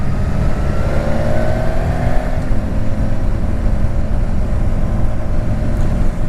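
A 2019 BMW S1000XR motorcycle accelerating hard with a quick shifter, its engine note rising then rolling on at a steady loud roar under wind noise, with no voices.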